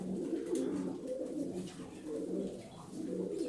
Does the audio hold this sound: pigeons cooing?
yes